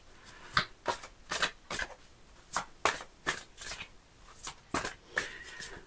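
Oracle cards being shuffled by hand, a close series of quick riffling bursts in an uneven rhythm with short pauses between, no voices.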